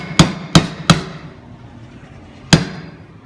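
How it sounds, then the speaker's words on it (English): Four sharp metallic hammer blows drive a socket against a wheel bearing seal on a Ford Ranger. Three come in quick succession, then a pause before a final strike, each ringing clearly and close with no talk. "Found a large socket that matches the diameter of the seal, and we're going to try to drive this in."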